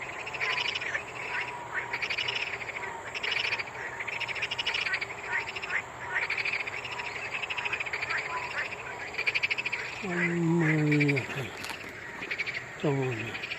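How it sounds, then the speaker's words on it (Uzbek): Frogs croak in a dense, continuous chorus beside an outdoor fish pond, mixed with steady insect trilling, with a brief voice heard toward the end. "Baqalar tovushlarni qarang."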